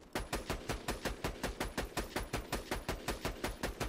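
Rapid automatic gunfire from corrosive weapons in the video game Borderlands 2 rattles in a steady, evenly spaced burst of close, loud shots with no pauses.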